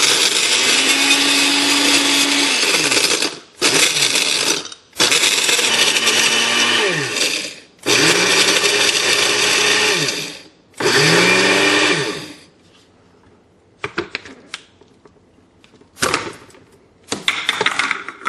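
A Cuisinart machine crushes ice for shaved-ice snow cones, grinding loudly in several long bursts separated by short pauses, then a few brief rattling pulses near the end.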